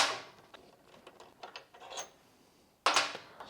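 Brake caliper bolts on a Yamaha R7 motorcycle being removed with a 12mm socket: faint, close ratcheting clicks and metallic taps in short bursts, ending in a sharper clattering scrape.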